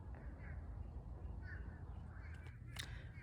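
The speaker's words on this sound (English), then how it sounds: "these crows are so loud" Crows on a southern homestead give several harsh caws at moderate distance over a steady outdoor background rumble, with no talking.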